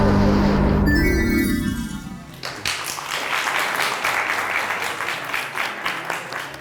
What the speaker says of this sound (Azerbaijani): Özləri əl çaldılar.